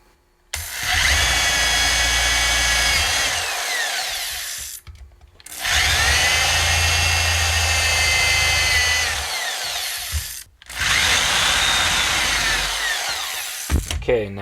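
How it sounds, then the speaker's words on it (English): A power drill fitted with a 5/16 bit bores holes for a DIY backpacking stove burner, three loud sustained whining bursts of several seconds each separated by brief pauses, close up and with no talk. "I'll switch to the 5/16 bit to drill the holes for the burner"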